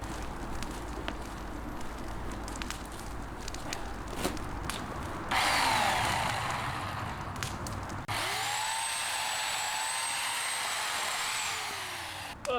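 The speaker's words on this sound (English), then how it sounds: "I love my little electric chainsaw" A small electric chainsaw cuts tree branches with a loud, steady whine in bursts that start and stop, joined by rustling and cracking wood between cuts. No one speaks.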